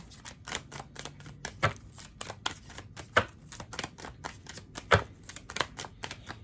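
Tarot cards being shuffled by hand, a quick irregular run of crisp riffling snaps and flutters, close and fairly quiet, with no talk.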